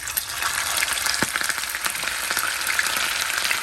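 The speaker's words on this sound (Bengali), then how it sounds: "এখন আমি এটাকে হালকা করে এটাকে ভেজে নেব" Chicken pieces frying in hot oil for a chicken roast, producing a steady, loud, close crackling sizzle with small pops throughout and no talking.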